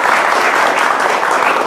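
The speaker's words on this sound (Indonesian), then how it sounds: "Kami hadirin tepuk tangannya buat Ustadz Dery Sulaiman." A studio audience at a televised talk show applauds for a guest, a brief burst of dense, loud clapping with no talk over it.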